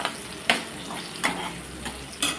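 Onions, garlic and curry leaves soften in a pan for sambar, giving a soft continuous sizzle with a few sharp stirring clicks spaced about half a second apart, close by.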